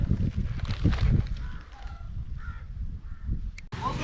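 Crows caw a few times in short harsh bursts in Sri Lanka, set against a steady, busy outdoor background.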